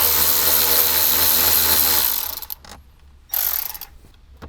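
A ratcheting 7mm socket wrench backing out door speaker screws on a 2021 Ford Bronco, a loud steady whirring clatter that stops, then two shorter ratchet bursts close up, with no talking.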